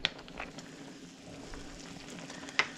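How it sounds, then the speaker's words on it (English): Chicken and dumplings simmering at a rolling boil in a pot, with a steady close bubbling and sizzling texture, a few sharper pops near the start and end, and no talking. "I believe we are at a nice rolling boil."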